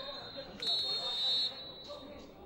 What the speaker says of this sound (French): monsieur Margeau il siffle la pause entre les deux réserves pro